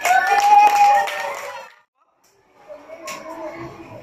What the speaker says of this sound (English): Clap to Yasin